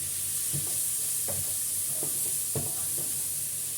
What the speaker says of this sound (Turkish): Şöyle pirincimi yağla, şekliyle biraz kavuruyorum.